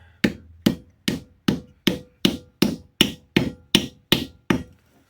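Steady hammer blows driving a wedge into the handle of a Germantown hewing axe, about a dozen sharp, evenly spaced strikes, close and loud with short ringing decay.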